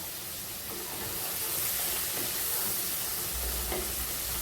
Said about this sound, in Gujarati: આપણી ડુંગળી સંતળાઈ ગઈ છે